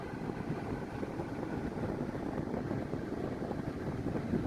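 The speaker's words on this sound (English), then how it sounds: "right now the engine is running, but I'm sure that you can barely hear it." Inside the cabin of a Hyundai Elite i20 diesel at idle, the engine gives a faint, steady, muffled low rumble, well damped and with no voices.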